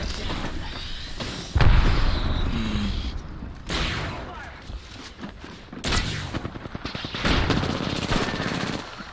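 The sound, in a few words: gunfire in Apex Legends video game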